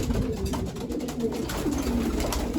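Racing pigeons in a loft during the breeding period coo with repeated low, throaty calls over a steady background murmur of other birds.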